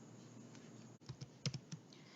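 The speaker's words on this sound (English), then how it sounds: "you can move around your screen by pressing space and clicking and dragging" Computer keyboard space bar presses and mouse clicks while panning in Photoshop: a handful of soft, close clicks in an irregular cluster over a quiet room hum.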